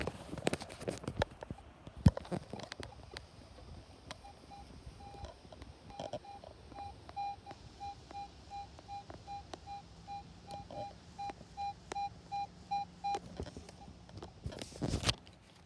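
A metal detector gives repeated short electronic beeps in a steady rhythm, a clear mid-pitched tone pulsing over faint background rustle and handling noises.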